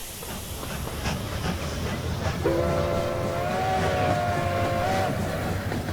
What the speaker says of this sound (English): Train 11 has departed.